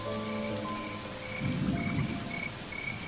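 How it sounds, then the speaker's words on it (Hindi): Steady heavy rain pours down, with a low rumble of thunder swelling in the middle and fading out; no voices. "इतनी बारिश को भी आज ही आना था।"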